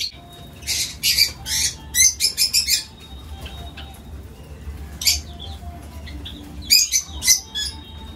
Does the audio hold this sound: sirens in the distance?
no